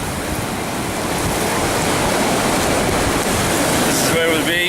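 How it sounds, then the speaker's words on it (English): Ocean surf at Surfers Paradise beach roars continuously and loudly, a dense wash of breaking waves from start to finish with a brief light bump of noise near the end. "see the waves, see why they call it Surfer's Paradise"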